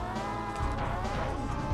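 A kart slams into a truck during a Mario Kart 64 race on the Flower Cup at 150cc, one loud crunching crash burst amid dense, continuous game music and effects.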